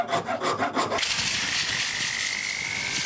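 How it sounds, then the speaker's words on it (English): A hand rasp shapes an oak wood slingshot, giving steady, close rasping strokes; a rhythmic back-and-forth scraping comes first, then one continuous harsh filing rub carries on to the end. "I find that hand rasps are the best way to shape something like this"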